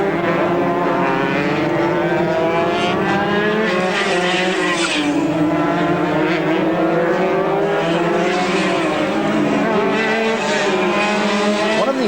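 Race cars at a 1982 Scottish Championship race at Banff, a loud sustained engine roar with rising and falling revs as cars pass close by.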